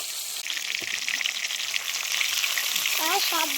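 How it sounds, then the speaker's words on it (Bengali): Pond fish fry in hot oil with a dense, continuous bubbling sizzle close by, a few faint clinks and soft stirring scrapes over the top, and brief chirpy sounds in the background toward the end. "এবারে আমি বাকি সব মাছগুলো ভেজে নেব।"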